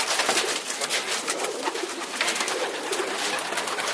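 Racing pigeons coo steadily inside a loft in San Antonio, Texas, a close, continuous murmur of many birds layered over one another, with no voices.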